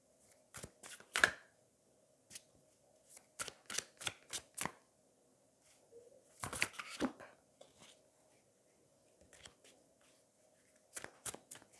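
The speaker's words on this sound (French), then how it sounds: "Je vais mélanger." Tarot cards being shuffled by hand in a quiet room, coming as bursts of crisp riffling and slapping clicks spread across the clip with short pauses between them, close and fairly soft, with no talking.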